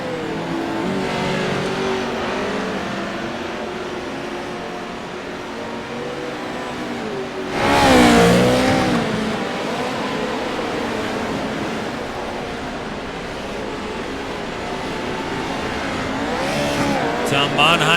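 Pro race trucks roaring around the Bark River road course, engines droning and revving as they pass, with one loud close pass-by, under continuous race commentary.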